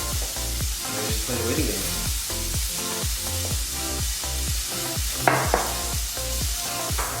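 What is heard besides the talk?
soft shell crabs sizzling in a hot pan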